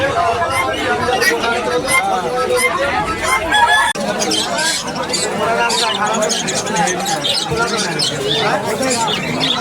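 Chickens, mostly Chinese breed, cluck and squawk at a market among busy chatter, with people talking close by throughout.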